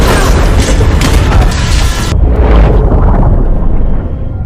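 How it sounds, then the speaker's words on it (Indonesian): A massive torpedo explosion against a sunken ship's hull booms loudly, its deep roar rumbling on and slowly fading over several seconds. "2 rudal torpedo milik Rusia menghantam badan kapal Tanpa Bay yang sudah tenggelam dan meledak dengan dahsyat"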